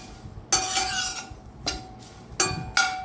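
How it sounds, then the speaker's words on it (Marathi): Dagadphool (stone flower) spice dry-roasts in a pan, heard as a few sharp, bright metallic scrapes and clinks of a spatula against the pan in separate bursts with quiet pauses between. "तर आता मी हे दगडफूल पण व्यवस्थित भाजून घेते."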